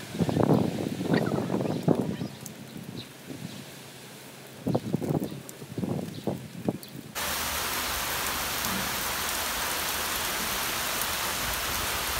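Rain falling in a sudden winter downpour with wind, first as scattered bursts of pattering against quieter gaps, then as a loud, dense, unbroken wash of rain hitting surfaces.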